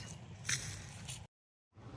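Footsteps squish and suck through soft creek mud on a woodland walk, a close, continuous wet churning that cuts off abruptly into silence before resuming.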